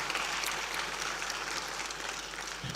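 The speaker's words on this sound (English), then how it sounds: "Let's clap for this young lady" Crowd applause for a young lady at a memorial service, broad continuous clapping from many hands, sustained and fairly loud with no speech over it.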